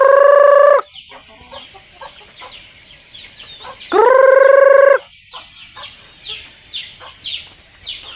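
A rooster crows loudly twice, close by, with long drawn-out calls, while chickens cluck and chatter quietly in the background between the crows.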